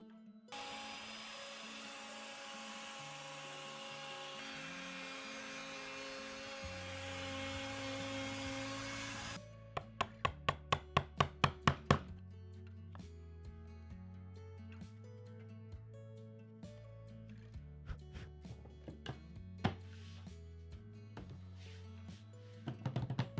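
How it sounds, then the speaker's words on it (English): Router with a straight pattern bit cutting a rabbet in a case along an MDF straight edge: a loud steady high whine that stops abruptly, followed by a run of sharp clicks and knocks and softer tonal sounds. "cut the rabbet for the case back using a router and a straight pattern bit following a simple MDF straight edge"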